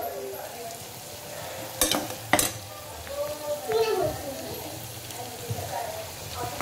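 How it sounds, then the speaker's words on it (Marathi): A pot of chicken biryani masala is stirred with a spoon, sharp metallic scrapes and clanks over a continuous frying sizzle, with faint voices in the background. "आता हे व्यवस्थित मिक्स करून घेऊया, व्यवस्थित शिजवून घ्यायचं।"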